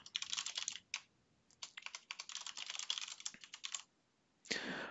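Quick bursts of typing on a computer keyboard, close and soft, with a short pause near the start, a longer gap, and a final brief rustle of keys; no voices.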